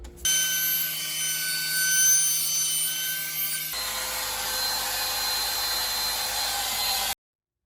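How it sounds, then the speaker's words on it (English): Router with a 1/8 inch roundover bit shaping the edges of a cornhole board, a steady high whine with a sudden shift in tone midway, running alone until it cuts off. "round these edges over with an 1/8 inch roundover bit"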